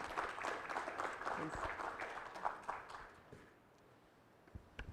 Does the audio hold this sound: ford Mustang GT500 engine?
no